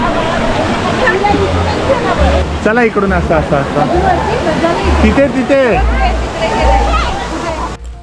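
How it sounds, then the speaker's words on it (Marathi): Feet slosh steadily through flowing water on the path to Bhavli waterfall, with a constant rush of water behind and people chatting and calling out throughout. "मस्त पाण्यामधून चाललाय."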